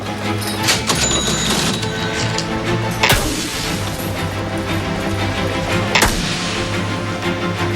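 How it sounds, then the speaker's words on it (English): Cash registers in a busy, dense mix of clatter and mechanical noise, with sharp crashing ring-outs near three and six seconds over a constant loud din. "Where's the money? Cash registers."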